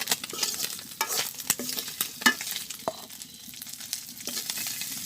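Fish frying in a pan while being stirred for a Bengali fish curry, with a steady close sizzle broken by sharp scraping clatters of a utensil, no talking.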